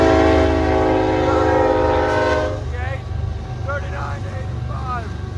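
CN freight train horn blaring a long, loud multi-tone blast at an activated grade crossing, then breaking off as the train rolls past with rumbling wheels and faint crossing-bell chirps, while voices talk excitedly nearby.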